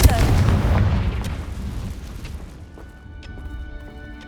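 A Confringo fire spell cast in the game Hogwarts Legacy, a loud booming blast up front that rolls off into a long fading rumble with scattered crackles.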